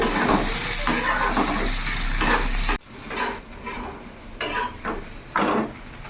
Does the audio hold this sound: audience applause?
no